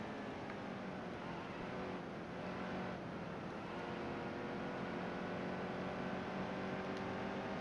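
Race car engines in an Xfinity series racing video game at Phoenix, a steady dense roar of several cars running together throughout, with one car closing from behind, continuous and fairly loud with no talk.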